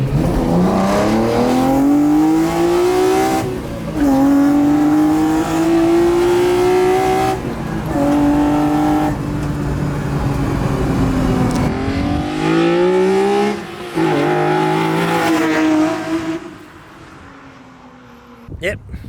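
Heavily modified BMW E30 running a swapped-in M3 engine, its loud, strained exhaust note holding near and steady across several sustained pulls at full speed, dropping into a short shift gap before fading out, with voices underneath.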